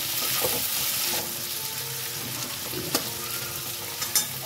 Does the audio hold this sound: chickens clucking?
no